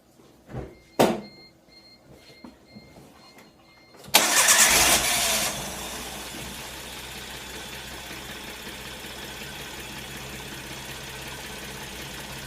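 Geo Metro engine with failing ignition coils: a couple of clunks, then the engine catches with a loud burst and settles into a steady, even drone that continues to the end.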